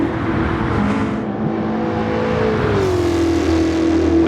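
Race car engine in a Wangan Midnight racing video game while chasing the Blackbird Porsche, a loud, steady drone whose pitch dips and then settles as the car cruises at speed, with a continuous wind-like rush underneath.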